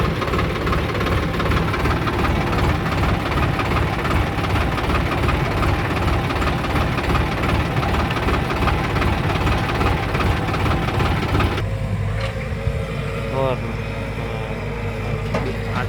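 Two JCB 3DX backhoe loaders and two tractors work at a village site, giving a continuous knocking diesel rumble with a loud, even drone that shifts in tone near the end, where a voice is briefly heard.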